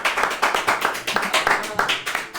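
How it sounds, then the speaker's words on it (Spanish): A crowd claps in a steady burst of applause, with voices mixed in under the clapping. "Fuerte el aplauso."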